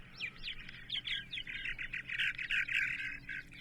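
A recorded songbird phrase broadcast on radio: a rapid run of bright, repeated chirping notes that speeds into a dense trill, fairly clear against a low background hum.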